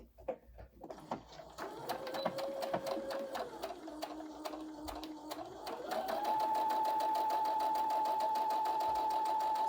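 A sewing machine stitches steadily along a marked line on a colorblock two-piece set, its rapid mechanical whirr continuous and close, pausing and shifting speed partway through before running faster and steady to the end.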